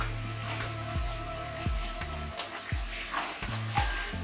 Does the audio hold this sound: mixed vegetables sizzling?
yes